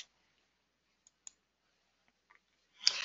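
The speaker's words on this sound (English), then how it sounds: "Okay, and then we're going to click on save." Mouse clicking on a save button in a web toolbox page, two or three faint, sharp clicks spaced apart in near silence, followed by a brief burst of noise at the end.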